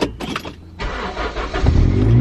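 A car engine cranks briefly, pauses, then catches and starts, settling into a steady running rumble nearby.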